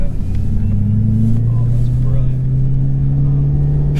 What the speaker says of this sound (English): you really hear that supercharger